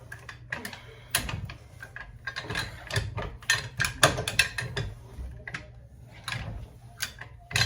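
A wrench loosening the lug nuts on a car wheel during a tire change, giving a run of close, rapid ratcheting clicks and metallic ticks in irregular bursts.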